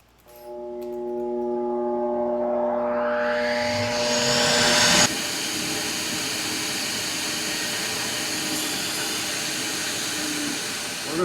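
A flow bench pulls air through a Holley 4-barrel carburetor, its loud whooshing roar rising over about five seconds with a climbing motor whine, then holding steady and dense to the end.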